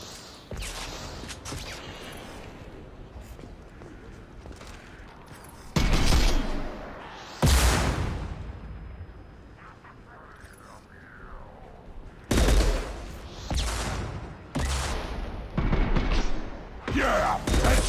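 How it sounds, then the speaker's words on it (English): Hand cannon pistol fire in Mass Effect 2, several heavy booming shots spaced irregularly over continuous game background noise and combat sounds, loud and punchy. "It feels and sounds like a hand cannon."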